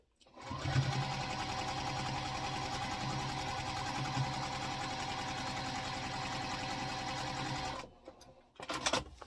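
An electric sewing machine stitches a quilt block for an all-seasons quilt, running in one loud, continuous, even-speed burst for about seven seconds before stopping, followed by a short rustle.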